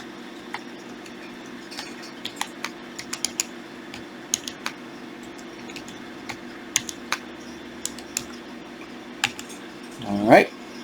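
A computer keyboard being typed on to enter a Wi-Fi password, with scattered, irregular key clicks over a low steady hum, close and fairly quiet, ending in a louder thump.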